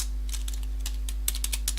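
Fingers tap out a short command on a computer keyboard, a quick run of crisp, distinct keystrokes with uneven rhythm, close and fairly quiet, with no one talking.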